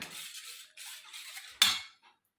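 Milk is stirred into a mixture in a bowl in a home kitchen: a spoon scrapes and clinks against the bowl in a few short strokes, then one sharper clink rings out near the end, close and fairly quiet.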